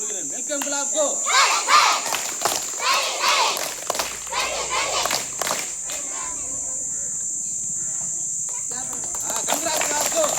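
Many children at a school Independence Day ceremony give a welcome round of clapping for a group leader, a busy burst of hand claps over the first several seconds that thins out against a steady high whine and scattered young voices.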